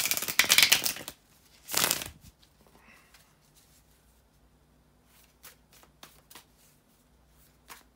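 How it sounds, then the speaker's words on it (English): Tarot cards are shuffled up close in two quick riffling bursts, followed by soft scattered taps and card handling in an otherwise quiet room. "Bear with me a second, guys, to shuffle the tarot cards"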